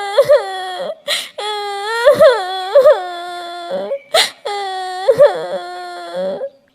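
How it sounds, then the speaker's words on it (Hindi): A young child cries and wails in repeated drawn-out sobs broken by sharp breaths, loud and close, with no other sounds around. "उसके कानों में बच्चे के रोने की आवाजें आ रही थी"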